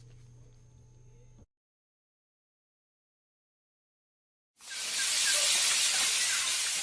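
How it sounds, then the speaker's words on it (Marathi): Pressure cooker whistle bursting in after a stretch of silence, a loud, sustained airy hiss of venting steam close by, following a brief low hum at the start. "लवकर गॅस बंद करा, कुकरची शिट्टी वाजते"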